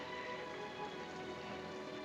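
Rain falls steadily during a storm in a 1944 film scene, a continuous, even hiss of drops with no voices.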